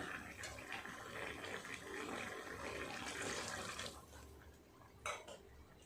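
Water poured into a pot of gourd and potato curry that has been fried with spices, a steady close splashing and gushing that runs for about four seconds before tapering into a brief final splash, with no talking.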